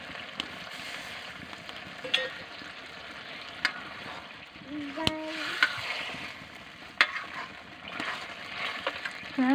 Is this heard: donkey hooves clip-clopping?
no